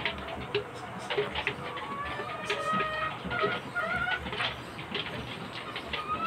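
Purebred Kanaway gamecocks and chicks cluck and call repeatedly in a busy farmyard, with steady rhythmic clucking and occasional louder squawks over constant background chatter from the flock.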